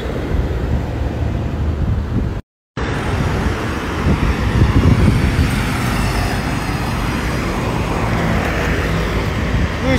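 Dense road traffic on an uphill road crowded with cars, a loud continuous rumble and hiss of many vehicles close by, steady throughout, broken once by a brief dropout.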